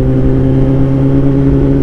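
A Kawasaki ZX10R motorcycle fitted with a new aftermarket exhaust runs at a steady high rev, a loud, close, deep droning tone with no voices.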